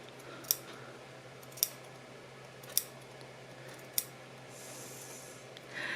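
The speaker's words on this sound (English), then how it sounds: "And then you want to do just some little snips up to the stitching line on the curves." Four crisp, evenly spaced snips of sewing scissors cutting into fabric seam allowance up to the stitching line on the curves of a heart-shaped piece for a McCall's 2004 reversible dress, close and clear over a quiet room hum.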